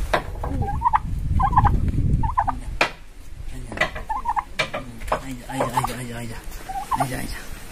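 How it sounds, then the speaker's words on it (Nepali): A turkey gobbling in repeated bursts of rapid warbling calls, close and loud, with rustling and brief voices in between. "मलाई खेद्ने टर्की चाहिँ यही हो है"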